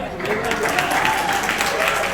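An audience claps at a Democratic Party gala dinner in Richmond County, a steady moderate round of applause heard alongside a speaker's voice.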